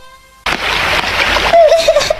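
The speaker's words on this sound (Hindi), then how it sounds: "मेरी डॉल पानी में गिर गई।" Cartoon splash as a doll drops into water, a sudden burst of spray and slosh followed by bubbly watery sounds, loud and close.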